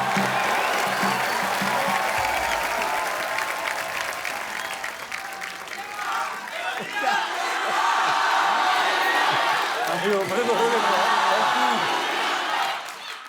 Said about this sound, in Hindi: जोरदार तालियां हमारे चैंपियंस के लिए।